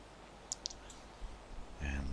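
A computer mouse clicking in the project name field of a Unity project: two sharp, quiet clicks close together, then a faint click, over low room hum, with a brief louder rumble near the end.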